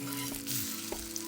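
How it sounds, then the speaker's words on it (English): Small spicy fish cakes frying in olive oil in a pan, a brief close hiss of sizzling oil with a couple of light taps. "When they're golden on one side, turn them over and allow them to cook on the other side."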